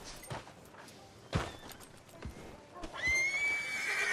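A horse in Red Dead Redemption 2 whinnies and snorts several times, hooves clopping steadily underneath, close and clear against a faint game-like background.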